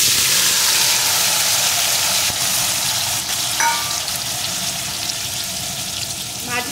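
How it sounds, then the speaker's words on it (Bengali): Marinated pankal fish frying in hot oil, a steady broadband sizzle running throughout with a few brief crackles and spatters, close and fairly loud, no voices. "মাছগুলো একটু এপিট ওপিট করে ভেজে নেব।"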